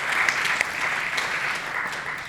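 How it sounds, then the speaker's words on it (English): An audience at a politicians' stage event breaks into applause, a soft, moderately distant patter of many hands clapping steadily with no talk over it. "Yes, that is worthy of applause."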